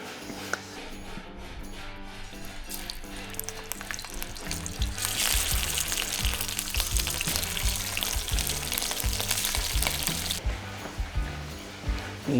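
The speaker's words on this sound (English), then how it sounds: "we'll put them on our cast iron skillet and start" Bison bratwursts sizzle and crackle in a hot cast iron skillet, the frying swelling louder midway, with faint background sounds underneath.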